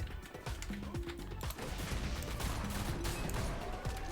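The Pyro's new primary weapon in the video game Primal Carnage Extinction, an assault-rifle and shotgun hybrid with incendiary ammo, fires in rapid, continuous volleys of loud, dense gunshots.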